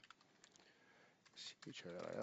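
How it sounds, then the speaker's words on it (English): Typing on a computer keyboard at a desk, entering a search into Google Scholar. Quiet scattered key clicks tap unevenly, then a voice starts talking over them toward the end. "I'm just typing in the name here"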